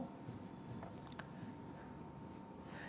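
Faint scratchy marker strokes on a classroom board during a general science lesson, a few brief scrapes under quiet room tone.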